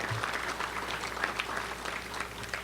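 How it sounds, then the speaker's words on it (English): An audience at a Little Rock touchdown club gathering claps in a brief, dense burst of applause heard from some distance in a large room. "Let's give them a round of applause."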